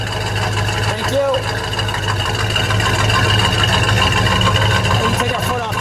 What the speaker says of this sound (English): To listen to it idle. It's got a nice idle.